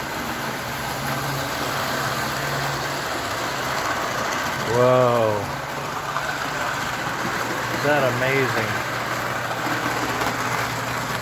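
An American Flyer Chrome 360 model train running with four steel-wheeled passenger cars gives a continuous mechanical whirring hum, with two brief rising-and-falling whistle-like tones. Someone talks excitedly over it.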